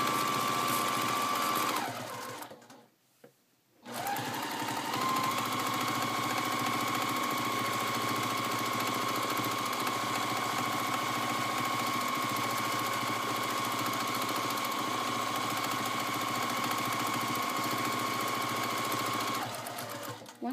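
A sewing machine runs steadily while free-motion quilting, with a continuous whirring hum, pausing briefly near the start before resuming at an even speed.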